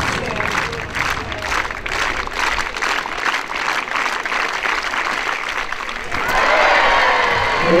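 A crowd applauds continuously for several seconds, the clapping broad and fairly loud, then swells into a brighter, fuller burst near the end as cheering seems to join in.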